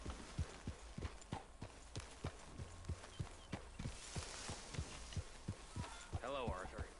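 A horse's hooves clip-clop at a steady walking pace in the Red Dead Redemption 2 video game, evenly spaced thuds close by, with a faint voice near the end.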